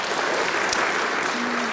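An audience at an award ceremony claps in a dense, steady round of applause that carries evenly throughout at moderate loudness.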